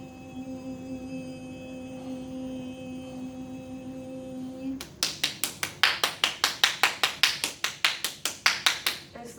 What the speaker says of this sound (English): As the clapping takes place